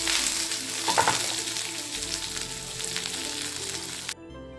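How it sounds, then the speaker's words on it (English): Onions frying in a pan, a loud, dense, continuous sizzle that stays close and steady before cutting off abruptly near the end. "now we are going to add the onions. Adding the onions."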